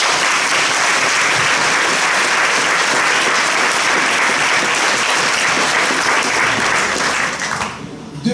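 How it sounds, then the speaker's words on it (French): Sustained applause from an audience honouring professors at a university faculty ceremony, a dense steady clapping that fills the room for several seconds before tapering off at the end. "On peut les applaudir, c'est bon."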